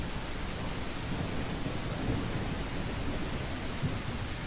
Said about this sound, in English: I'm trying to see if the storm will pass while I'm doing this